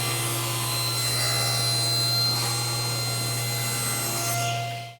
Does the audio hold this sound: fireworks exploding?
no